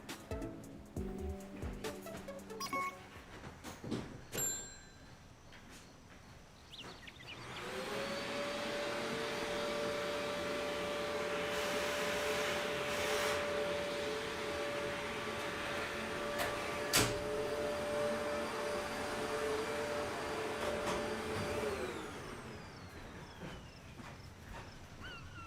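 A vacuum cleaner runs steadily in the background for about fifteen seconds with a constant motor whine, starting and stopping cleanly amid faint room clatter.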